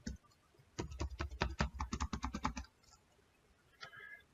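Rapid run of roughly twenty computer keyboard keystrokes in a steady burst lasting about two seconds, close and crisp, followed by a pause and a couple of faint clicks.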